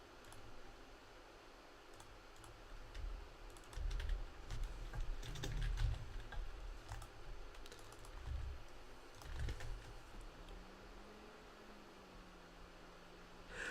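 Slow, sparse typing on a computer keyboard with a Persian layout, soft scattered key clicks over a low steady hiss.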